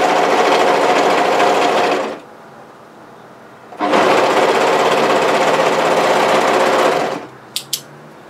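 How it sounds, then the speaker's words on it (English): An overlocker serger stitches a sweatshirt seam in two loud, steady, buzzing runs close up, with a pause between them and a couple of faint clicks at the end. "and I'm going to overlock"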